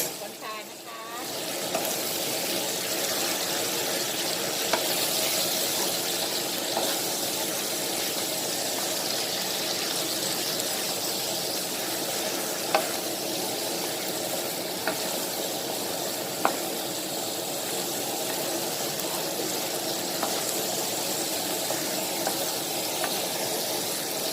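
Shrimp stir-fried with moonflowers, baby corn, sauce and sugar in a hot pan, giving a loud, steady sizzle and hiss with occasional scraping stirs throughout, close up and continuous.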